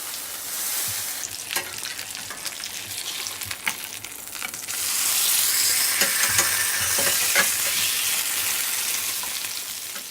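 Foie gras fries in a hot pan as it is turned, a steady close sizzle with a few scraping clicks that swells louder and hissier partway through.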